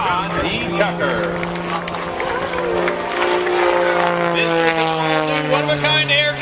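An aerobatic propeller airplane, a one-of-a-kind aircraft flown at the Dayton Air Show, drones loud and steady with a shifting engine pitch, heard under an announcer speaking over the crowd.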